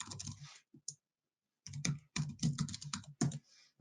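Rapid bursts of typing on a computer keyboard, with clustered clicking keystrokes separated by a short pause, close and distinct with no speech.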